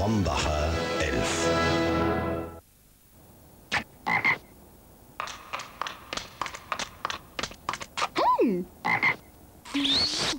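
Frog croaks in a French TV advertisement for Scénic mobile computers with Pentium MMX processors, a run of short, loud, separate croaks in irregular bursts following a musical jingle, with a quiet background between calls.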